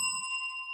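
A small bell is rung once by a livestream host during a classic car chat, its clear ringing tones sustaining evenly and fading slowly after a brief initial strike, with no talking over it.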